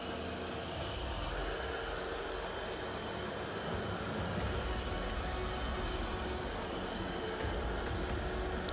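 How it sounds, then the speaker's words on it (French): An Ultenic T10 robot vacuum cleaner runs with a steady, even whirring hum that stays constant throughout, fairly quiet and close, with no talking. "Allez, il est parti pour faire le premier nettoyage."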